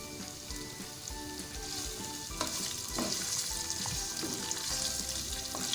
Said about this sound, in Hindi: अब हम प्याज को गोल्डन ब्राउन करेंगे।